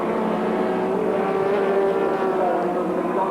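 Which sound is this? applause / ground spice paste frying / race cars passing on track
race cars passing on track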